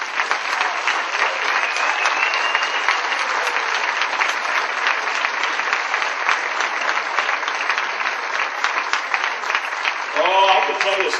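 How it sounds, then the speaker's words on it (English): A radio-industry audience at a tribute event gives a sustained, dense round of applause for about eleven seconds, steady and fairly loud, with a voice briefly speaking over it near the end. "let's have a nice round of applause for all of our friends in the record business"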